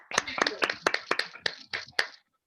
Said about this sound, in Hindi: जोरदार ताली बजाइए, माइक खोल के बजाइए